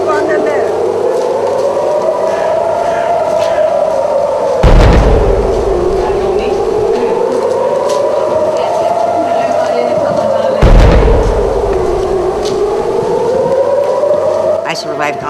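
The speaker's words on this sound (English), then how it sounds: "Hamas rockets are coming in." During incoming Hamas rocket fire, an air-raid siren wails in a slow rising and falling cycle, broken by two deep, loud explosion booms several seconds apart.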